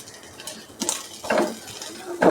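Grated coconut roasting in a pan for theeyal, stirred with a utensil that gives a few scraping clinks and scuffs against the pan over a faint sizzle, close and fairly quiet.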